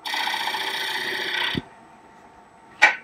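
A micro-bevel bowl gouge cuts into a spinning wooden bowl on a lathe, giving a close, steady rasping hiss that stops abruptly, followed after a pause by one brief scraping touch.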